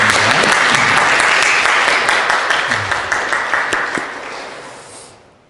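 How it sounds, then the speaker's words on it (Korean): Church congregation applauding in welcome during a worship service, a dense wash of clapping from many hands that holds steady, then thins and fades out near the end. "우리 박수로 환영해 드리겠습니다"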